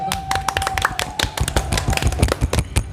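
Hand clapping in a casual podcast setting, a quick run of sharp, close slaps in an uneven rhythm, loud and dry, with no talking over it.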